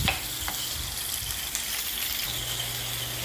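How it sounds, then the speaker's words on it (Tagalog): Spices sautéing in hot cooking oil give off a steady, close sizzle and hiss, with a few brief clicks of stirring near the start and no talking. "Lulutuin ko muna yung mga ricado sa mantiga."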